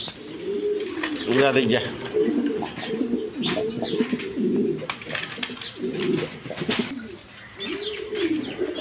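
A pair of Dragon breed pigeons coo in repeated low, throbbing phrases close by, continuing steadily while someone talks over them.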